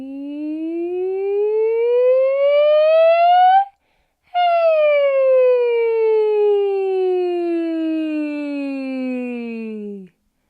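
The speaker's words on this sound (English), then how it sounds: "we're going to just siren up your range and down" Singer's thin-fold vocal siren, a smooth continuous glide rising steadily up the range for a few seconds, a brief gap, then sliding back down without a break, sung alone and clear.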